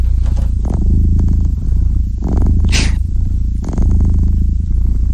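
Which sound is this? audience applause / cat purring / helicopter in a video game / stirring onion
cat purring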